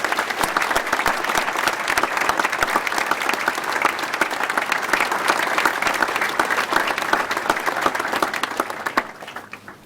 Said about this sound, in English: please join me in giving a warm round of applause to Mrs.